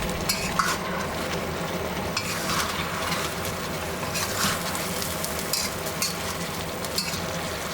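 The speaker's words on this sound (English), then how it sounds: "Now add in seared chicken drumsticks and fully mix them" Seared chicken drumsticks being stirred into a boiling braising sauce for braised chicken, with a continuous bubbling sizzle and scraping, clacking stirring sounds from a utensil in the pan, fairly close and without talk.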